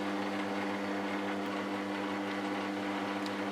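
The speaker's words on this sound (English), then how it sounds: "the gearbox itself is so quiet" An oil-filled Traxxas TRX-4 RC gearbox spins at about 500 RPM on the input shaft. It gives a steady, smooth, quiet mechanical hum that stays even throughout, with no other sounds over it.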